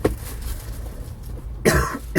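A man coughs close by, a couple of harsh bursts separated by a pause, with a further cough starting at the end over faint background noise.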